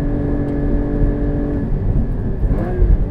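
A Porsche Cayman GT4 engine accelerates on a race track, a loud close steady engine tone rising in pitch with a brief surge near the end, no voices.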